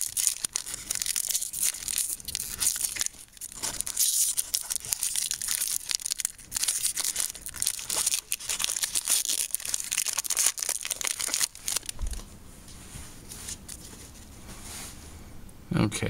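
Crinkly foil tearing of a Magic: The Gathering booster pack, a long run of close, dense ripping and crumpling that tapers off near the end.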